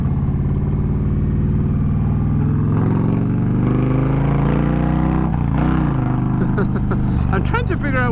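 An Indian Challenger motorcycle engine accelerating, a loud steady rumbling drone that rises and climbs in pitch over several seconds, heard up close throughout, with a voice speaking over it.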